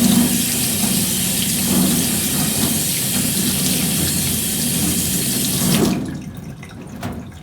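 Tap water runs steadily into a sink while ink is rinsed off a textile screen-printing screen, a constant close gush that cuts off abruptly near the end, leaving near silence.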